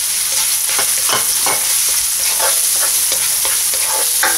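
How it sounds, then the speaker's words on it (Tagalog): Garlic and onion sauté in hot cooking oil in a wok, a steady loud sizzle with repeated scraping stirs of the spatula throughout. "Mag-gisa na tayo ng garlic. And onion."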